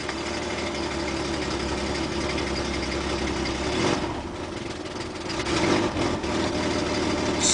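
An old 1967 Mercedes engine idles after a cold start, giving a steady low rumble close by, with a brief dip and a small swell in level partway through.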